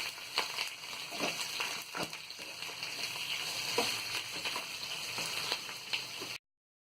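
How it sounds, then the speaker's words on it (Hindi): Cumin, mustard seeds, curry leaves and onion sizzling and crackling in hot oil for dal baati tempering, a loud, steady fry with occasional pops and stirring scrapes, no talking. "जीरा, राई और ये कड़ी पत्ता और ये प्याज डाल के अच्छे से तल लेंगे।"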